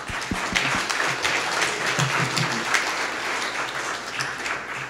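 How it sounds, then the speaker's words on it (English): Audience applause following a talk at a computer science paper-reading meetup, a dense, even patter of clapping from a room of listeners with a few sharper, closer claps near the start. "Applause."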